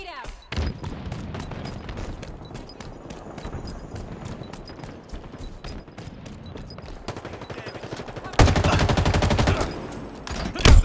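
Gunfire and a grenade blast in the video game Halo Infinite: rapid repeated shots fire throughout, building to a loud dense burst near the end, with no talking.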